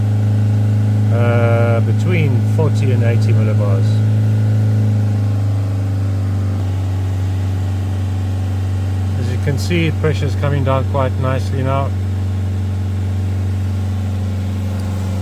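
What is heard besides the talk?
Fiat Ducato camper van engine held at 3,000 revs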